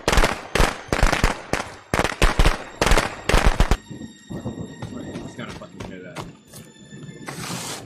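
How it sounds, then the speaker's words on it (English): Indoor fireworks in a house crackle in fast, loud bursts for several seconds, then die down into scattered pops and hiss as a voice talks over them. "Dude, I accidentally put off fireworks in the fucking house"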